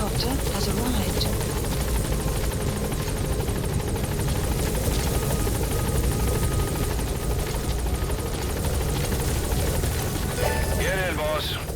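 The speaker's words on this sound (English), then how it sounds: "Support helicopter has arrived." Support helicopter from Metal Gear Solid V: The Phantom Pain idles at the landing zone, rotors keeping up a steady loud thrumming drone without letup, with a short burst of voice near the end.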